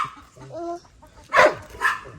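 Chickens clucking nearby, with soft low calls at first and then two loud, sharp squawks in quick succession.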